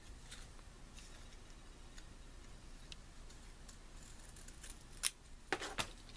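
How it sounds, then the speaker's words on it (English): Scissors snip through paper pleats while making a layered prima tag, a few sharp, close cuts clustered near the end after a stretch of quiet room tone. "So now I'm going to cut each piece."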